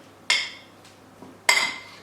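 Chow mein being tossed in a pan makes two sharp metallic clanks with a softer knock between them, close and clear against a quiet background.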